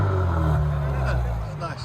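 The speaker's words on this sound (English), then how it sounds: "Here the turbo's pulling up." An Infiniti Q60 with a 3.0L turbo engine and straight pipe exhaust pulls hard as the turbo spools, a loud, steady low engine drone with rising tones that eases slightly toward the end.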